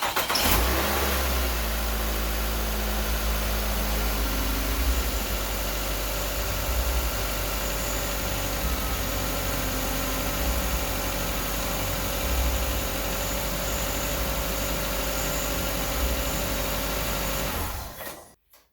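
A 2009 Nissan Altima with newly replaced spark plugs cranks and starts, then runs steadily and loudly close by, a continuous engine hum with slight rev swells that holds for most of the clip before cutting off.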